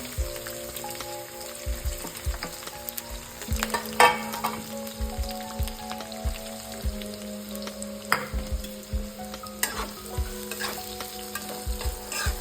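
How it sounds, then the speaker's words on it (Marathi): Sliced green chilies and onion sizzle in hot oil in a pan, a close, steady frying crackle with occasional stirring scrapes and clinks, no talking. "पॅनमध्ये मी तेल ठेवलेलं होतं ऑलरेडी ते तापलेलं आहे त्याच्यामध्ये मी उभी चिरलेली हिरवी मिरची टाकते उभा चिरलेला मी कांदा टाकते"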